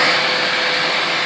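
Close, loud Bissell Lift-Off vacuum motor droning without a break, a steady high whirring hum with no other sounds.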